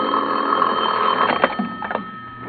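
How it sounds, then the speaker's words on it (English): A telephone rings in a vintage radio detective drama, a bright, continuous ringing tone heard fairly close in a quiet bedroom scene, with no talking over it. "was almost asleep when my phone rang"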